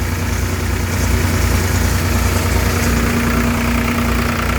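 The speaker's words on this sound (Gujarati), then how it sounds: "દસ આરપીએમ આપણું ટ્રેક્ટર હાલે છે" A Farmtrac 42 tractor engine runs steadily nearby, a loud, constant diesel drone with a low, regular thudding pulse and no talk over it.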